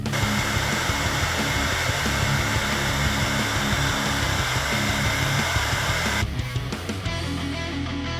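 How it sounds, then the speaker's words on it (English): A hair dryer blows steadily and loudly, close by, heating vinyl graphics on the curved frame of a Yamaha YFZ450R race quad. The drone is continuous, then shifts slightly in tone near the end. "we use the hair dryer for any curves in the frame to heat up the graphic"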